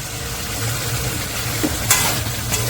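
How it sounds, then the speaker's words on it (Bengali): Potato and pointed gourd are stir-fried in spice paste, a close, steady sizzle with scraping of the spatula in the pan and a few louder clinks near the end, with no speech. "আলু পটল ভাজাটা দিয়ে দিয়েছি মশলার মধ্যে দিয়ে ভালো করে নাড়াচাড়া দিয়ে নিচ্ছি"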